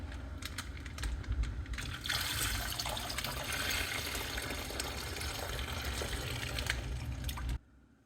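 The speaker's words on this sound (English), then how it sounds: "Pour this out before it leaks all over the bench." Evapo-Rust solution poured out of a container on a workbench, a steady continuous splashing gush lasting several seconds before stopping abruptly, with faint clicks underneath.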